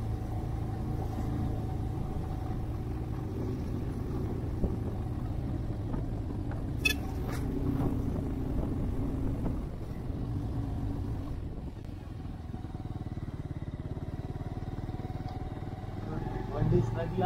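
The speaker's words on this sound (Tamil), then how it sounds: "வண்டி ஸ்ட்ரகிளாகுமாடா? ஸ்ட்ரகிள் ஆகல, நான் ஸ்லோவா டர்ன் பண்ணேன்." Car engine droning steadily while climbing the hairpin bends of the Pollachi–Valparai ghat road, a constant low rumble heard from inside the cabin with wind noise, occasionally rising and easing as the car turns.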